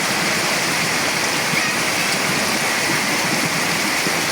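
Heavy rain pours steadily during a typhoon in Mindanao, a dense continuous roar with no gaps, loud and close, heard alone without voices.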